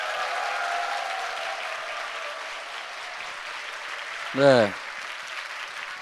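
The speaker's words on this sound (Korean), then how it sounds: "힘찬 박수 부탁드리겠습니다." A crowd at a political rally inside a church applauds in a steady, fairly distant wash that slowly eases off, and a voice speaks briefly near the end.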